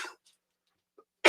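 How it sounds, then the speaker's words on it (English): A single sharp winter cough bursts out close and loud at the end, after a faint throat sound earlier in near silence. "Oh, still got those winter coughs."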